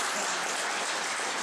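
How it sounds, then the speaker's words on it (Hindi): Audience at a Hindi poetry recitation breaks into loud, dense applause, a continuous wash of clapping that fills the brief moment on its own. "एक बार जरा तालियां बजा।"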